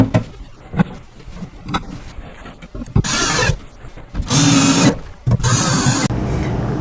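Screws driven into a storage cubby during assembly, with small handling clicks and ratcheting at first, then loud, close bursts of a power driver whirring in short runs.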